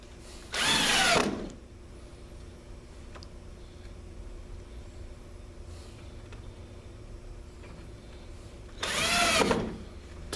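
A power drill drives screws back into the clip of an ES1000 thermostat, two short whirring bursts several seconds apart, close and loud, with faint handling noise between them.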